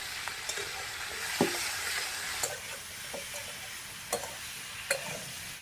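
Kohlrabi with turmeric and salt frying steadily in a pan, a soft continuous sizzle broken by a few sharp scraping knocks of a stirring spoon at irregular intervals.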